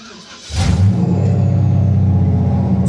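An LS-swapped 1971 Chevrolet C10 pickup cranks briefly and fires, its engine catching with a sharp rise into a loud, deep, steady idle up close.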